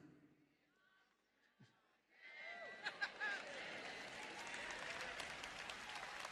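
An audience at a sermon bursts into applause, with dense clapping swelling and continuing steadily after a brief, quieter spoken moment.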